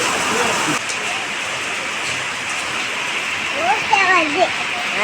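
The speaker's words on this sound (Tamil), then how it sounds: "இவ்வளோ மழை வருது" Heavy rain pours as a steady, dense hiss throughout, with faint voices talking briefly underneath it near the end.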